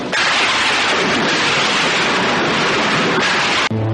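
A rocky river rushes loudly at night, a dense, steady broadband roar of water over stones that runs unbroken until a sudden brief cut near the end.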